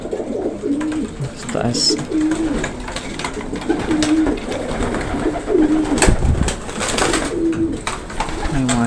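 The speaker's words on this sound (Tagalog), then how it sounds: "Mga foundation bird." Racing pigeons coo repeatedly in a loft of foundation birds and hens, soft rhythmic coos layered over one another throughout, with people talking nearby.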